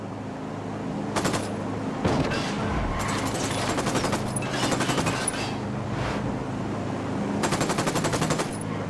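Bursts of automatic gunfire in Ghost Recon Wildlands, several rapid rattling volleys spread across the scene with short pauses between them, loud and close over a steady game background.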